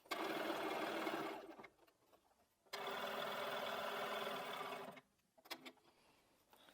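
A sewing machine runs in two steady bursts stitching fabric for a cushion block, each lasting a couple of seconds, separated by a brief pause and followed by faint clicks and handling.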